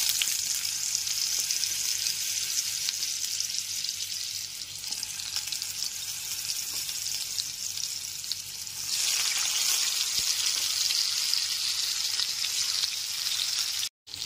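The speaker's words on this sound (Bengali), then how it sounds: "আলু ভেজে নেওয়ার পর ওই একই তেলে দিয়ে দেব লবণ হলুদ মাখানো পটলের টুকরোগুলো।" Pieces of pointed gourd coated with salt and turmeric fry in oil left over from frying potatoes, a steady close hiss and sizzle that swells louder partway through.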